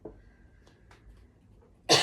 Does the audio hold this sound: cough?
yes